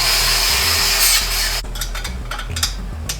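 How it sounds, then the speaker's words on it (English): A grinder runs close and loud as it scrapes rust off the rear wheel of an XR 80 motorcycle. A harsh, sustained grind is followed by lighter, uneven passes of rubbing and scraping. "Grinding the rust off the rear wheel now."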